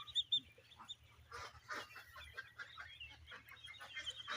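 Fifteen-day-old Kalaring cross duck chicks, about two hundred of them together, peep and chirp in a busy, overlapping chorus of short high calls, fairly faint with a low hum underneath.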